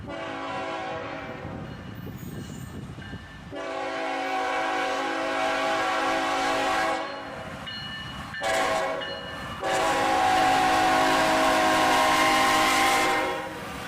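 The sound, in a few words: train passing with horn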